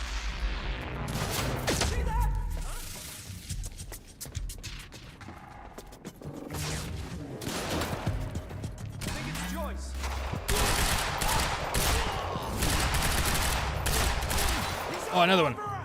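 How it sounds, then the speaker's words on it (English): Gunfire in the video game Quantum Break, bursts of shots crackling steadily through the clip over game noise, with a player voice talking at times beneath the firing. "Who's shooting?"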